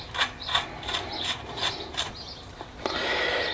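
Nut being tightened on a Solex 3800 moped engine, a run of regular ratchet clicks at close range, about six evenly spaced strokes, then a brief sharper knock and a steadier rasping sound at the end.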